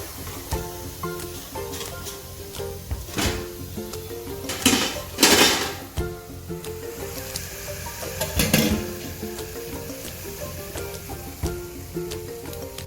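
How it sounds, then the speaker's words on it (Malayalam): Fried jackfruit seed pakoda being scooped out of hot oil, with close metallic clinks and scrapes of a ladle against the pan over a steady background sizzle, a few sharper clatters in the middle. "അപ്പോൾ ഞങ്ങളുടെ ചക്കക്കുരു പക്കോട ഫ്രൈ ആയി വന്നിട്ടുണ്ട്. നമുക്ക് കോരി മാറ്റാം."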